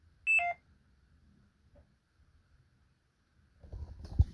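An old mobile phone lets out a short burst of tonal beeps near the start, followed by near silence and then low rumbling handling noise toward the end.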